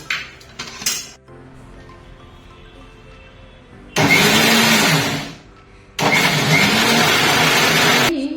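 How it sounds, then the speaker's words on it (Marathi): A kitchen mixer grinder blends raw mango pulp in two loud, sustained whirring bursts of a few seconds each, separated by a short pause, after some quieter handling noises. "आता हा कैरीचा गर मी मध्ये बारीक जरा फिरवून घेते"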